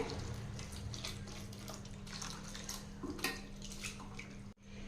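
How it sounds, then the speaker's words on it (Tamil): Water poured into a bowl of grated potato, a continuous close splashing pour lasting a few seconds before cutting off abruptly. "இப்போ தண்ணி சேர்த்திக்கலாங்க"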